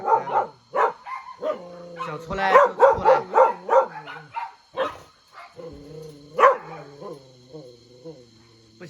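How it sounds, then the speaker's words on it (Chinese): Three small native puppies in a cage at a stray dog rescue yap and bark in quick bursts, close and loud, the yips breaking into whiny whimpers between volleys. "3只小土狗，现在笼子的门被他们打开了，想出来就出来。"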